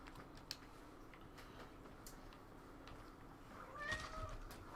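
A cat named Henry meows softly near the end, a short rising call over a steady low hum and faint background ticks.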